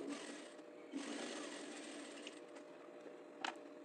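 A sewing machine runs steadily, stitching the bottom seam of a fabric bag, with a brief pause and a few light clicks partway through.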